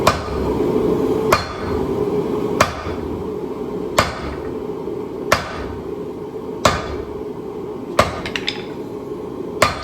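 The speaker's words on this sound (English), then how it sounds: "now it's time to actually start forging out the steel. So that means it's time to break out the Thor hammer." A power hammer forges steel for a khopesh blade, striking sharp, loud metallic blows about every one and a half seconds, with a quick cluster of hits near the end over a constant workshop hum.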